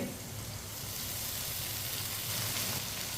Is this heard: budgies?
no